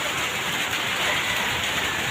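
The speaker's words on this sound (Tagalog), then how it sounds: "talaga yung ulan, walang tigil" Heavy, unbroken rain pours down during Typhoon Tino, a dense steady hiss of water hitting surfaces, loud and close, with no pauses.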